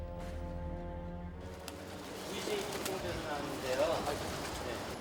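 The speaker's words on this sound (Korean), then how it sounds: "정말 비둘기 모이를 주고 있다." Pigeons being fed on a Japanese street coo softly amid rustling and scattered street noise, the calls low and intermittent beneath a faint narrating voice.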